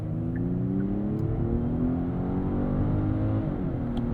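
A 2024 Genesis G90, a 5,000-pound luxury sedan, accelerates flat out on the road, its engine note climbing steadily and loudly, then dipping briefly near the end as a gear changes before pulling again.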